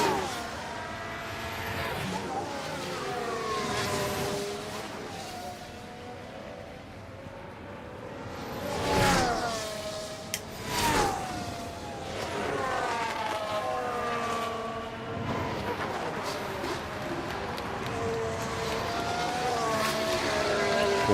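Formula 1 race cars in the F1 Manager 24 video game at Monza scream past while overtaking, high engine whines rising and falling in repeated Doppler sweeps, several cars passing close and loud over a continuous racing roar.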